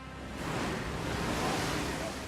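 Sudden storm surge waves from a hurricane churn with a dense, rough washing roar that stays loud and steady, sounding close and turbulent with no clear voices.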